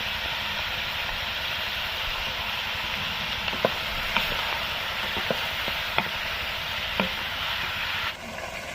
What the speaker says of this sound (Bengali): মাংসটা আমার কষা হয়ে যাচ্ছে